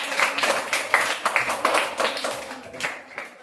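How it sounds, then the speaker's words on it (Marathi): Fourth-grade children clap together in a classroom quiz: a quick run of sharp, dense claps at moderate volume, bursting repeatedly across a few seconds. "शब्बाश टाळ्या सगळ्यांनी जोरात"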